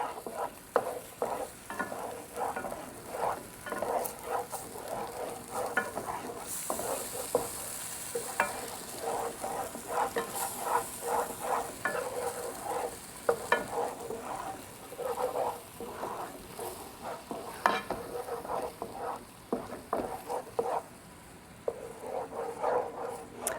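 A garlic and milk sauce is stirred in a medium-to-large pan for salmon fettuccine Alfredo, giving quiet, rhythmic scraping strokes with a faint bubbling sizzle underneath that keep going steadily.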